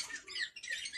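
Bird squawks from poultry being handled during treatment for leg weakness, several sharp bursts close up with no talk.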